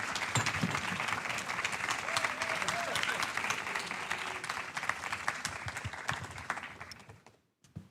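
Audience applause at a fulldome film festival award gala, sustained dense clapping with some crowd voices mixed in, tapering off and ending near the close.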